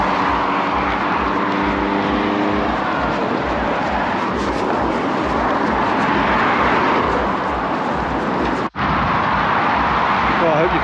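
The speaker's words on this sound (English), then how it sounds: "I hope you can hear me over that traffic." Road traffic rumbles past a runner in a steady wash of engine and tyre noise. A voice talks over it, and the noise briefly drops out near the end.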